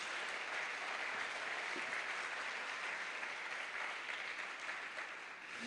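A church congregation applauds during a sermon, a continuous wash of many hands clapping together, steady and fairly distant, easing slightly near the end.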